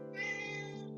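A cat gives one drawn-out, fairly faint meow, steady and close, lasting about a second with no talk over it.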